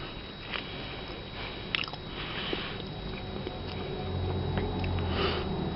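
One person chews a chewy, savory snack from a Canadian military ration pack, close to the mic, with soft wet munching, a few bites and sniffs over a steady background hiss.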